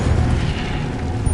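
Incendio fire spell cast in the Hogwarts Legacy video game: a sustained, loud whooshing roar with rumbling low bursts across the whole moment, without speech.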